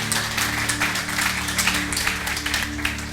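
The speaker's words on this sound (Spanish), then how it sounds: "Dale fuerte el aplauso al Señor." A church congregation claps in a dense, lively burst of applause over steady sustained musical tones, with some faint voices mixed in.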